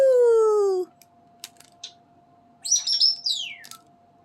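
Smokey, a pet bird, imitates the wild birds outside: a loud, close whistled note glides downward, a few soft clicks follow, then a bright warbling chirp phrase sweeps down, with no talk over it.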